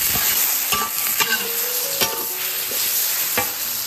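Meat, chili, ginger, garlic and tomatoes sizzle loudly in a hot pan, with repeated scraping, clattering stirs of a spatula over a constant frying hiss, close up.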